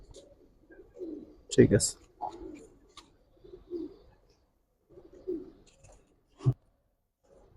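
Giribaz pigeons coo in a loft, giving soft, low, throaty coos in short bursts with pauses, close by and fairly quiet, along with a few sharp flutters or clicks, while someone speaks briefly.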